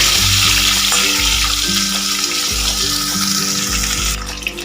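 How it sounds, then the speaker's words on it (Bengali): Loud, steady crackling sizzle of potatoes frying in oil over medium heat, with a low humming drone underneath and the sizzling easing slightly near the end. "আলুগুলোকে কিন্তু খুব ভালো করে একটু ভেজে নেব"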